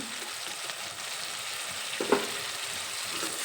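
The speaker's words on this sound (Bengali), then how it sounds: "এখন এর মধ্যেই যে গুঁড়ো মশলাটা জলে গুলে রেখেছিলাম সেই মশলাটা অ্যাড করে দিলাম" Spice paste made from ground spices mixed with water sizzles in a pan while cooking spicy bele fish curry, a steady frying hiss with one brief scrape of stirring partway through.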